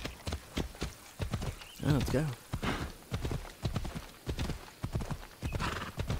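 In the video game Assassin's Creed Odyssey, a horse's hooves clip-clop in a steady trotting rhythm, and a whinny is heard partway through. Someone speaks briefly over the hoofbeats.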